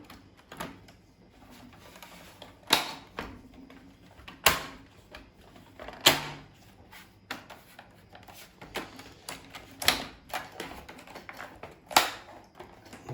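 Clicks and sharp snaps as plastic parts are pressed onto an Olivetti Keyboard 2 (ANK 2462) computer keyboard, with several loud distinct clicks spaced a second or two apart over softer handling noise.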